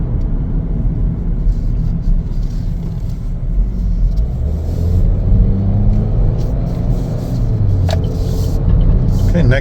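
A 2024 Chevrolet Equinox AWD LS on a test drive gives a low, steady road and engine rumble from inside the cabin, with a person talking over it throughout.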